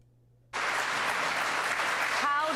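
Studio audience clapping, a dense steady wash of applause that bursts in after half a second of quiet and holds loud and even to the end, with a faint voice surfacing near the close.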